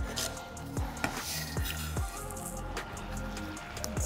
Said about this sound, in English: I'm just gonna chop up some parsley.